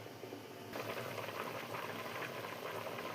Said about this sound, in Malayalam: ഇനി തിളക്കട്ടെ. മൂടി വെച്ച് തിളപ്പിച്ചെടുക്കാം.